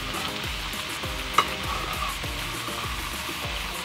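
A spoon stirring chicken liver and gizzard adobo in a sizzling pan, with regular scraping strokes about twice a second over a constant frying hiss.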